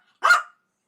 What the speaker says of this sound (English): he's barking at Buka to get off the bed